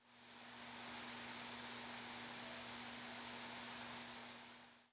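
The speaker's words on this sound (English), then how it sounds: "Performance fan acoustics cap out at around 44 decibels and sound like this." Steady broadband whoosh of an ASUS Zephyrus G14 2021 gaming laptop's cooling fans running in performance mode, with a faint constant hum underneath, holding level and alone for the whole stretch.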